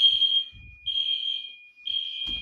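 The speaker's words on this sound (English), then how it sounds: "And then you gotta wait for the alarm" Fire alarm sounding during a security system test, giving three loud, sustained high-pitched electronic tones separated by brief gaps, with faint clunks and handling noise in between.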